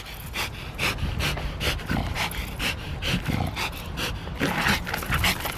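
Malinois dogs panting hard after play, a rapid rhythmic huffing with regular breaths close to the microphone and a few snorts.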